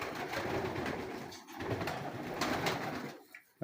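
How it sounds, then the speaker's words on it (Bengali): Pigeons cooing in a rooftop loft in Saudi Arabia, soft repeated low coos layered over a steady background hum, fairly close, with a brief dip in sound near the end. "ওই যে কবুতর"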